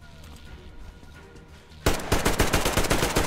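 Gunfire in the video game Metro Exodus: after a quieter stretch of ambience, a loud burst of rapid automatic shots erupts and keeps rattling for over a second, close and dense.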